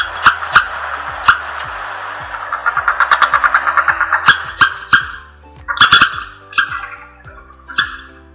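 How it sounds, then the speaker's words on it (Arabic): A squirrel chatters up close, loud and alone, in quick bursts of sharp repeated chirps and chuffs, with one faster run of rapid calls in the middle. "سنجاب."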